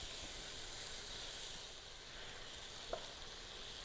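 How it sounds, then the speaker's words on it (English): Partly frozen meat for chili browns in a pan over medium-high heat on a convection stove, giving a soft, steady sizzle and hiss with one small tick and no talking. "You want to brown your meat over a medium-high temperature."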